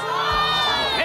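Children at a wedding crowd clamor and jeer together, a dense burst of high shouting voices held loud and close for about a second.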